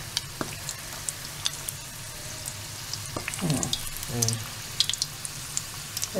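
Vegetable samosas made with plain maida dough and dosa masala filling fry in oil on a moderate flame, giving a soft continuous sizzle with small pops and brief bubbling bursts, under occasional background voices.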